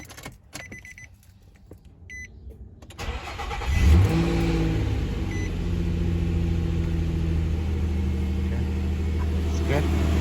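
A Nissan Frontier pickup engine cranks and starts after a serpentine belt tensioner replacement, catching with a loud surge and settling into a steady, close idle that runs on, with brief talk over it.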